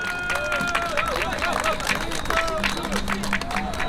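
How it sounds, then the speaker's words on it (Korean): Crowd applauding at an outdoor district-office campaign rally, loud close clapping mixed with cheers and babble, while an announcer's amplified voice talks over it. "큰 박수 부탁드립니다."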